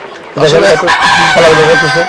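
Fayoumi chickens on a poultry farm in Cumilla; a loud, close, drawn-out rooster crow rises suddenly and rings for nearly two seconds.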